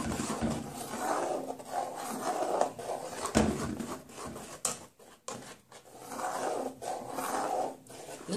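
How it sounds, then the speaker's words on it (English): A spoon scrapes and rubs around a pot as coconut milk is stirred into green plantain porridge, a continuous rasping, swishing sound near and moderately soft with brief gaps, no talking. "What you do is keep stirring."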